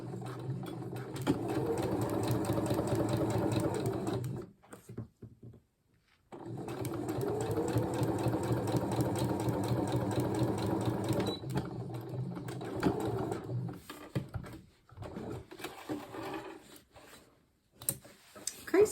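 A sewing machine runs back stitches on a coat in two long, steady whirring bursts separated by a short pause, followed by several brief stop-start stitching spurts, close and clear with no talk.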